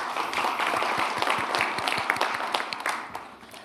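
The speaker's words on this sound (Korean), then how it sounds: "박수 감사합니다" An audience at a Korean capital-market policy meeting applauds after a video screening: dense, even clapping from many hands, moderately distant, fading out toward the end.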